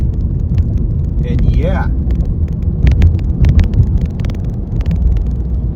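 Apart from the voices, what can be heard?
cars passing on the road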